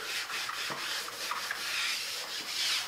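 A felt cloth spreading tire coating product over a tire, making a steady close rubbing and swishing sound in repeated strokes with no talk.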